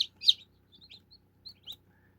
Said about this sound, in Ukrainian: Ось такі наші ціпуньки.